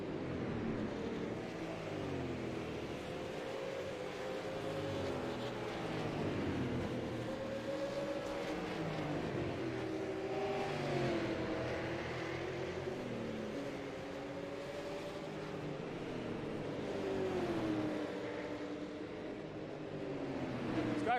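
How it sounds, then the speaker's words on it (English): Stock cars race at Nashville Fairgrounds Speedway, including a Dodge Charger, their engines a steady, continuous roar with rising and falling pitch sweeps as cars pass, heard from a distance under commentary. "We're going to keep our eyes on this battle as the Altel Dodge Charger going up against Mears'"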